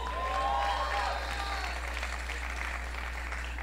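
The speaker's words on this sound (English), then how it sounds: "the clapping was pretty damn minor" Audience applause, a short burst of modest clapping from a small crowd, fairly faint and steady over a low hum, with voices faintly mixed in.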